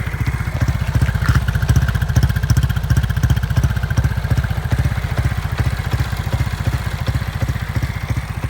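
A Honda Wave 125i motorcycle with a Pamoke exhaust idles steadily, a close, even, loping putter from the pipe with a regular pulsing rhythm and no voices.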